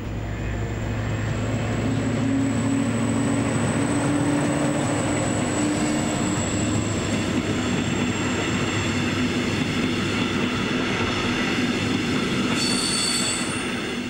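A diesel-hauled double-deck push-pull train rolls past on the Cuxhaven–Hamburg line with a continuous heavy rumble, a long high wheel squeal and a deep engine drone, loud and steady throughout.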